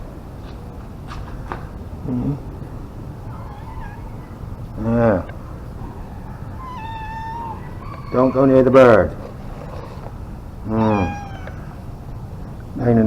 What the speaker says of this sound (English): Keep that pesky cat away from you.